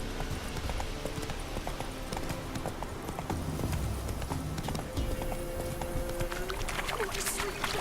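Horse hooves clip-clop in steady rhythm as a mount trots along in The Witcher 3 video game, mid-distance and moderately loud, with game ambience and a character's voice briefly over it.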